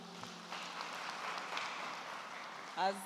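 An audience applauds a newly commissioned leadership cohort at a ceremony, a soft, distant patter of clapping sustained throughout, with a brief louder sound near the end.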